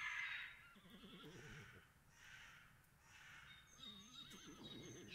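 A horse neighs, with wavering whinnies rising and falling in bursts, heard over a faint outdoor background.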